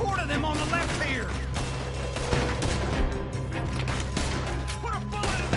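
Gunfire aimed at a zombie horde in a video game on PS4, dense overlapping shots and impacts crackling continuously under a busy, loud game soundscape.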